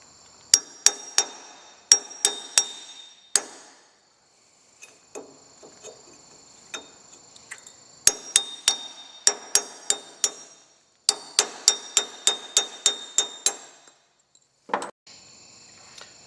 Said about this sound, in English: To remove the dust cap, I'm going to take my chisel and put it right here.